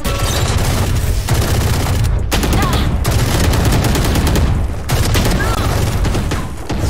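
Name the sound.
gunfire in the video game Valorant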